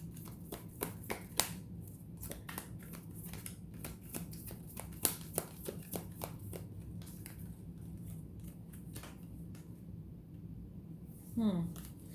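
Tarot cards shuffled by hand, giving a run of soft, quick riffling snaps and flicks at close range, repeating irregularly over a steady low background hum with a brief sliding sound near the end.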